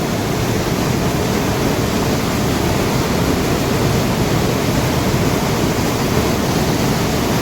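Loud, steady rush of water flooding across a path near a crab-hunting spot, a continuous close roar with no break and no voices.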